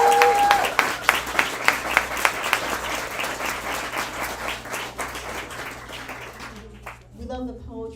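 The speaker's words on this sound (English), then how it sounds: "yes, applaud for Shelby." Crowd applause for a performer at a poetry slam, steady clapping from many hands with a few sharper claps early on, fading toward the end as a voice starts.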